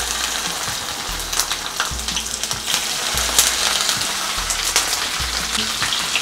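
Okra (bhindi) deep frying in a batch of oil gives a loud, continuous crackling sizzle, with low rhythmic scraping thumps from stirring underneath.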